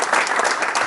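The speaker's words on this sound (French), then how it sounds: "On peut les applaudir quand même pour mettre un peu d'ambiance." Audience applause at a French conference on mobility and electric-vehicle charging infrastructure: dense, steady clapping from a crowd, close and loud throughout with no gaps.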